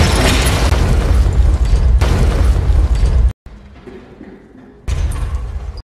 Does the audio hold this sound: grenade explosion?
yes